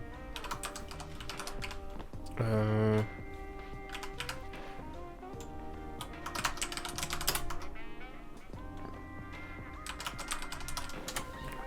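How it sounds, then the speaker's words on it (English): Steady computer keyboard typing while layers are named in a drawing program, close and fairly quiet, with irregular bursts of keystrokes running through the whole stretch and no talk. "I was typing in layers. Naming my layers."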